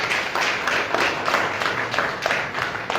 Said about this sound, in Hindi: ताली बजा दो यीशु के नाम में।